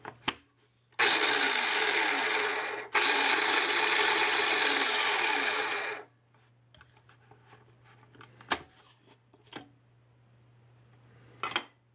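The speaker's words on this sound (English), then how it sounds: "And give that a quick pulse to combine it." Food processor pulsing a sugar, salt and baking powder mixture for butter crackers: two loud whirring bursts, a brief one then a longer run of about three seconds, followed by quieter clicks and handling noises.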